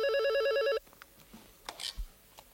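A telephone rings in a French sitcom interior, a rapid warbling electronic trill that sounds once, loud and close, then cuts off, leaving faint room noise and small handling sounds.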